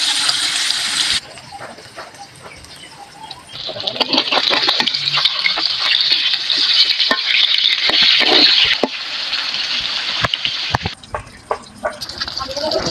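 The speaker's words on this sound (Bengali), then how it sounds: "মাছগুলো আমি সব দিয়ে দিচ্ছি। এগুলো আমি ভালোভাবে ভেজে নেব।" Pangas fish sizzle and spatter as they fry in hot oil, a dense, loud hiss that swells when more pieces go into the pan, with occasional clinks and a voice talking over it.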